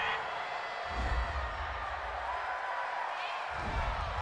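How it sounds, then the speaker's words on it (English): The home crowd at an NFL game between the New England Patriots and Denver Broncos roars in a stadium: two swells of cheering rise from a steady background murmur. "This home crowd, they're happy with that call."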